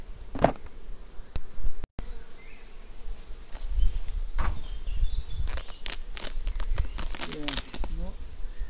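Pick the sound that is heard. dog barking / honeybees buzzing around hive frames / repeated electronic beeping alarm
honeybees buzzing around hive frames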